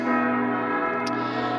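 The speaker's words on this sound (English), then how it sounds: "All the churches, cathedrals, I'm assuming chapels, all chiming their bells at the same time." Church bells across Graz, Austria chime together, a dense sustained ringing of several overlapping bells heard steadily from a distance in the streets.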